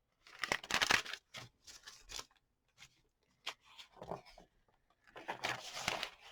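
Thin deli paper being handled and crinkled in bursts of rustling and crackling, close up, with short pauses between handfuls.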